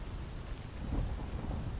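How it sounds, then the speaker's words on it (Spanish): A thunderstorm in the video game Stalker Anomaly brings a low rolling rumble of thunder over steady, hissing rain. The sound is fairly quiet and continuous, with no voices. "cada vez que se escuchan los rayos no se me escucha nada"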